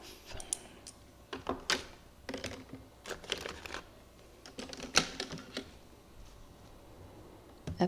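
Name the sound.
tape being peeled off paper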